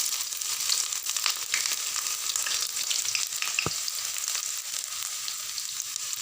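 Onions frying in hot oil for a simple vegetable capcay, a steady dense sizzle and crackle with light stirring and a single knock near the middle.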